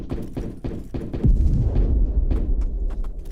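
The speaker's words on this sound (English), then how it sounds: "I heard that explosion." A deep booming explosion rolls out in the survival video game Plains of Pain, preceded by a series of sharp thuds and cracks, with the low rumble lingering for a couple of seconds.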